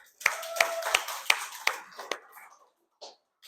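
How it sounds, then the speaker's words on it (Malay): Several children clap in a classroom finance lesson, five or six sharp, evenly spaced claps at a brisk rhythm that stop abruptly, with faint voices afterward. "Tepuk tangan dulu."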